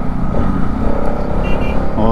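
Motorcycles on the road, a Bajaj Dominar and an RS among a group of four riders heading out early toward Simli waterfall in Nayagarh, Odisha, give a steady engine drone with a voice talking over it throughout.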